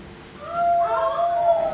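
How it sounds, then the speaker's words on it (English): A dog's long wavering howl rises and drifts over a faint background, clear and fairly close, with no talking. "Another bark, soon followed by a bone-chilling howl."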